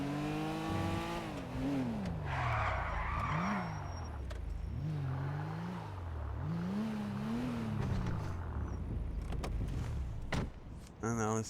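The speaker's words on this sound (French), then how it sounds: "dérapage de ouf" Car engine revving and sliding through a drift in a video game, with rising and falling pitch sweeps and a tire-scrub hiss, loud and close, under a game voice.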